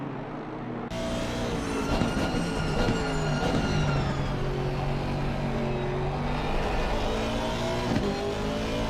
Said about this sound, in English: V8 engine of the Aston.